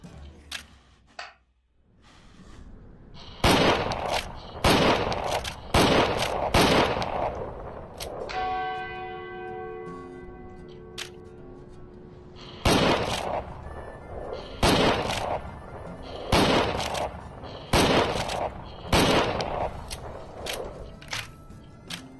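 Gunfire in the VR game Private Property, set in the Wild West: bursts of sharp shots, roughly a dozen over the stretch, with a ringing bell-like tone sustaining between them.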